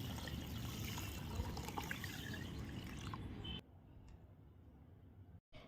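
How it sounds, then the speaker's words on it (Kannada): Tap water pours steadily over half a kilo of moong dal in a bowl for rinsing, a close, continuous trickling splash that cuts off partway through, leaving a quieter tail. "ಹಾಗೆ ಈ ಹೆಸರುಬೇಳೆನ ತೊಳ್ಕೊಳ್ಳೋದಕ್ಕೆ ನೀರನ್ನ ಸೇರಿಸ್ತಾ ಇದ್ದೀನಿ"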